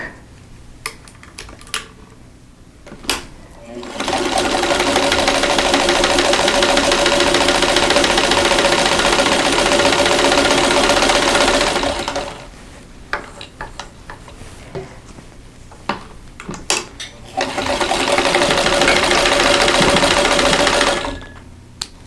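A sewing machine stitches a quilt block in two steady, loud runs of rapid mechanical chatter, with a short pause of small handling noises between them.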